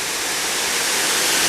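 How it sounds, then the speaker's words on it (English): Waterfall on Prairie Creek pouring over bedrock limestone in Big Woods State Park, a steady, loud, broadband rush of falling water with no voices. "this great waterfall here coming off of Prairie Creek"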